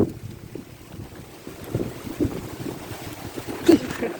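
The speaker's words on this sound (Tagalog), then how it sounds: "Basta hangin dito sa bukid" Gusty wind rumbles and buffets the microphone outdoors in a farm field, steady with a few stronger gusts near the end.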